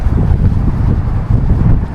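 Loud, buffeting cold wind rumbling against the microphone outdoors on a street in Denver, Colorado, a constant low roar with gusty fluctuations.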